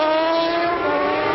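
A Suzuki racing motorcycle at a 1992 750cc Supercup race at Donington Park passes close by with a loud, sustained high-pitched engine howl and no voices.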